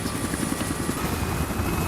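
A helicopter struggling to climb over mountains and hills, its rotor chop pounding steadily and loudly with broad engine roar throughout.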